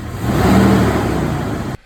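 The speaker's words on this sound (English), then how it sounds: "revving a cold engine warms it up faster" A cold car engine revs up hard and loud, holding a high, rough roar before it cuts off abruptly at the end.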